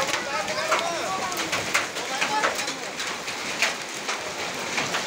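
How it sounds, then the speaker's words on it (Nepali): Hail and rain pour steadily onto a street in a market area, a dense, continuous patter with sharper individual impacts scattered throughout; no speech is heard. "असिना पानी परेकोले हेर्नु न यस्तो जति बाटो असिना परिरहेको छ"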